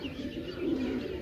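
Pigeons cooing close by: one low, soft, rolling coo that runs continuously through the short moment, with no talking.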